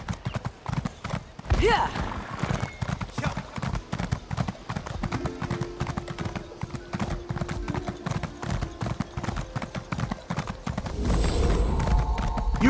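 Horse hooves clip-clop steadily through a ride in Elder Scrolls Online, set in Summerset, with a regular close rhythm of hoofbeats carrying through the clip, a brief whinny-like sound near the start and a short spoken word in passing.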